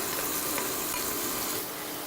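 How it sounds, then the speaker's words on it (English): Vegetables sizzle loudly and steadily in hot oil in a pan, a dense, close crackle that stays even from start to finish. "do you hear that sizzle?"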